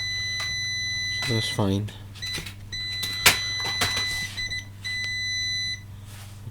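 Multimeter continuity beeps, steady tones, sound while probing a coil on a MacBook Pro A1278 logic board during repair, recurring through the clip alongside someone talking nearby.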